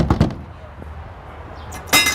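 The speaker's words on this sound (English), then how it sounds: "bang on the windows" Sharp knocks on a house window, a quick pair of bangs at the start and another loud hit near the end, with quiet room tone between.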